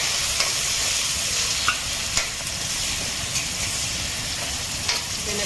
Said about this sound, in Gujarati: પછી થોડી ઘી નાખી ડાયરી આપણે નાખી દઈશું એમાં કાંદા